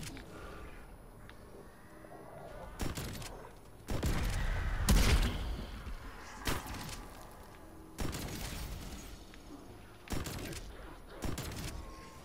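A new shotgun in the video game Outbreak fires about seven sharp, booming blasts at irregular intervals, loud and close over a low ambient hum.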